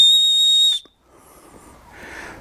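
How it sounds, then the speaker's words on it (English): A whistle built into the top of a Leatherman multi-tool is blown once, a loud, piercing steady tone lasting under a second, then cut off into quiet outdoor background. "on the top here, I don't know whether you can see there, you've got a whistle. So I'll just blow it."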